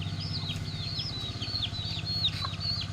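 A hen, a breeding chicken, gives a run of soft repeated clucks and chirpy calls close by over a low steady rumble, fairly faint and continuous.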